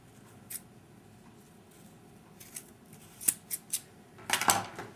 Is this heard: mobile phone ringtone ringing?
no